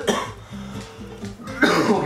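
A person gives a sharp, close cough, followed by a quieter breathy stretch and then a second cough, with no other sounds around them.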